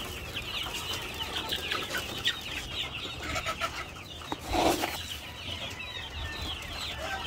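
Chicks and adult chickens clucking and peeping steadily while pecking at newly mixed feed on a farm, a busy close flock chatter with a brief louder burst of flapping or squawking partway through.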